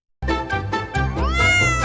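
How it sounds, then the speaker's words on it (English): A cat meows loudly and close, a few quick tonal calls followed by one longer, rising drawn-out meow, with no other sounds around it. "C is for cat."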